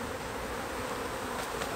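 Honey bees swarming around a birdhouse as a beekeeper relocates them, a dense continuous buzzing drone with no pauses, close and steady.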